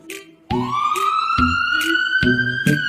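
A fire engine siren wails, rising in pitch and holding loud and close, with repeated rhythmic clicks or clunks beneath it.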